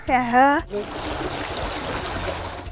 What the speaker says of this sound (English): So this is the Thiba River.